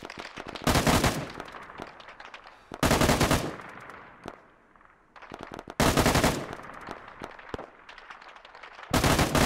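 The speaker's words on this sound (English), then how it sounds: "MG, come on, where are you? Let's put some suppressing fire" Machine gun suppressing fire in the video game Arma 3 comes in four long, loud automatic bursts at roughly three-second intervals, with quieter distant shots and rumble between them.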